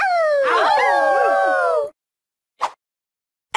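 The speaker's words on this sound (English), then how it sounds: "H. Howl." A drawn-out, wavering dog-like howl with several overlapping voices rises loud and clear in a children's Halloween alphabet game, then cuts off, followed by brief short calls.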